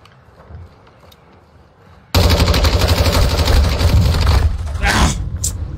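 Shotgun fire in Call of Duty Warzone 2.0 gameplay: after a quiet stretch, loud, dense gunfire erupts suddenly and keeps up for several seconds, close and harsh.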